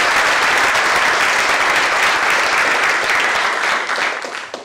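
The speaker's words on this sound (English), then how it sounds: "Big round of applause for you." Sustained applause from an audience at a university startup pitch event, dense and loud for several seconds before tapering off at the end.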